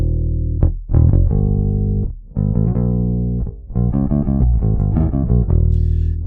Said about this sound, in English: Going back to the bass guitar, using an actual bass, it would sound like this.